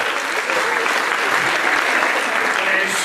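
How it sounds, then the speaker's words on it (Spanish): Steady, dense applause from an audience at a school cultural-week conference in a secondary school hall, a continuous close clapping wash lasting about three seconds without letting up. "Un fuerte aplauso para ellos."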